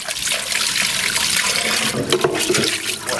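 A tap runs steadily while a squid tube is rinsed under the water, a continuous close splashing with no talk.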